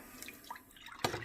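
Soft trickling and splashing of coffee being poured into a pot with vanilla for vanilla sauce, brief and fairly faint, with a small drip-like burst near the end.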